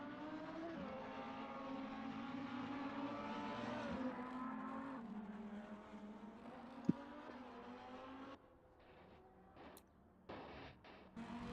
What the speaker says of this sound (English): let the sounds of the engines roar naturally